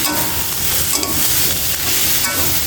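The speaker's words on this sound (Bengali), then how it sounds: "আর একটু ভাজা ভাজি করে নামিয়ে নিই" Food is stir-fried in a pan on a home stove, a steady, loud sizzle and scraping hiss that runs without a break and with no voices.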